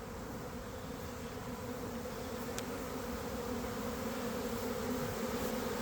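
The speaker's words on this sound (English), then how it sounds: "there's a lot of bees in the air" A swarm of honeybees fills the air outdoors with a continuous, steady drone of buzzing wings, even and sustained throughout, no voices present.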